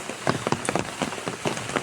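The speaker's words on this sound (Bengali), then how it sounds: "খুব খুব ভারী বৃষ্টি হচ্ছে" Heavy rain pattering densely on a surface, with a steady wash of drops and irregular louder splashes throughout, close by.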